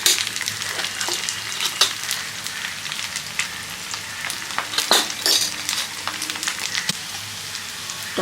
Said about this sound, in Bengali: এবার এতে দিচ্ছি জিরে, ধনে গুঁড়ো, আর দেব হলুদ।